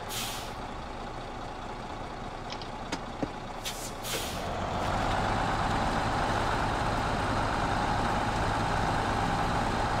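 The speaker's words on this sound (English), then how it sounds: "Look at it climb that ice because it's got chains on it." A truck fitted with chains grinds up ice in SnowRunner, its engine growl swelling louder and steadier after a few sharp clanks and hisses early on, with no talking.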